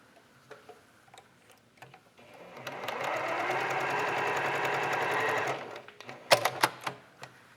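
A sewing machine stitches pieced quilt strips in one steady run of a few seconds, with quieter clicks and handling before it and sharp taps after it stops.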